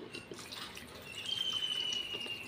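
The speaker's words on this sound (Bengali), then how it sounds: "আমি গরম জলটাই দিচ্ছি" Hot water poured into a cooking pot of raw green banana, papaya and potato being made into a thin curry, a steady liquid trickle with a thin pouring tone rising partway through, close and fairly quiet.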